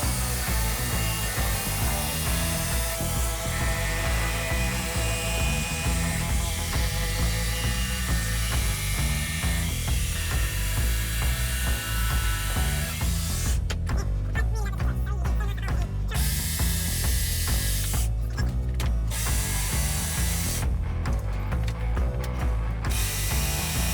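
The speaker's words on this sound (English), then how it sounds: "let's just cut the rest of these tabs out with the new jigsaw" A new jigsaw cuts tabs out of wooden workbench parts in a garage, a loud, continuous buzzing rasp that runs on and stops briefly a few times.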